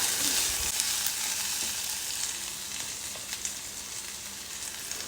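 Chopped vegetables for suji bath fry in a pan, a close and steady sizzle broken by scraping stirring strokes, with no voices.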